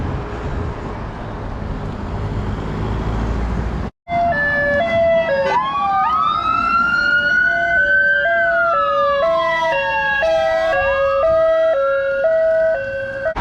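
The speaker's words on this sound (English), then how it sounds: "there were a few unmarked police cars with sirens going" Unmarked police cars pass with sirens wailing and yelping, loud and close, with sweeping rising and falling tones over traffic rumble after a short break in the sound.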